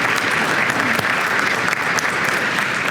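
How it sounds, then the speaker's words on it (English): Sustained, loud applause from a banquet audience honoring students and their families at an academic awards dinner, a dense steady wash of clapping lasting the whole moment with no voices above it. "Let's give these students and their families a round of applause."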